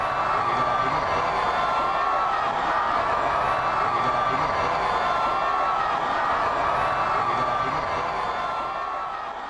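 A large crowd in the Philippines cheers and roars for Pope Francis's passing motorcade, with a dense, steady wall of voices and shouts that carries on without a break and eases slightly at the end.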